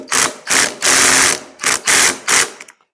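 A ratchet wrench loosens tight Torx fittings on a custom Harley or Triumph motorcycle brake caliper, giving six loud, close bursts of rapid pawl clicking separated by brief pauses, with no talking.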